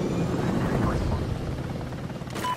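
An MI-24 attack helicopter in the Call of Duty: Ghosts multiplayer game gives off a loud, continuous rotor and engine roar, strongest early and easing slightly toward the end.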